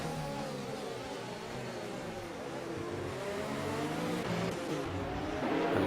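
Race cars in an Xbox racing game on an Austrian circuit, a dense blend of several engines droning and revving together as cars overtake, continuous and fairly loud, rising slightly toward the end, with no talk.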